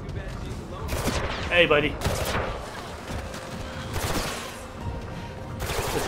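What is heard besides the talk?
turret gun firing in Mirror's Edge Catalyst video game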